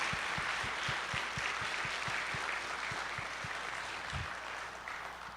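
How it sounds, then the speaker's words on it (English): An audience at a convention closing ceremony applauds, with steady, dense clapping that holds throughout at close range and fades slightly at the end. "Give them a round of applause."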